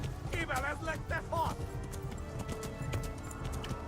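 Hooves of a galloping horse in the video game Kingdom Come: Deliverance drum in a steady, quick rhythm that runs throughout, with a voice briefly talking over the hoofbeats early on.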